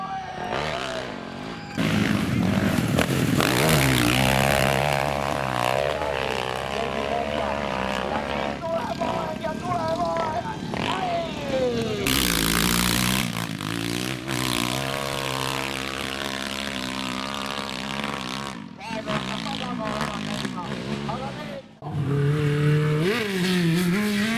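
A hillclimb race car in the 2019 Estonian hillclimb season revs hard and loud, its engine note rising and falling through gear changes over about twenty seconds, with a commentator talking over it.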